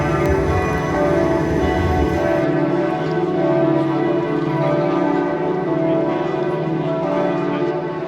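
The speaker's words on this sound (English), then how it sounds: "just as the church bells had finished chiming" Rich, ringing church bells in Bremen, Germany, chime loudly with long overlapping resonance, the tones sustaining and slowly fading throughout.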